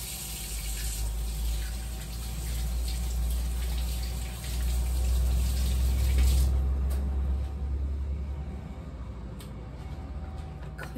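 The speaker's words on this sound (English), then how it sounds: "let me wash my hands real quick" Tap water runs steadily into a kitchen sink while hands are washed between steps of making air fryer breakfast biscuits, a continuous close gush that cuts off partway through and leaves a quieter room with a few small clicks.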